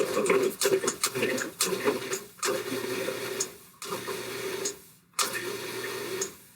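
Chilled butter being pulsed into flour for an apple crisp topping, a food processor whirring in short repeated bursts of grinding motor noise with brief pauses between pulses, close and fairly loud.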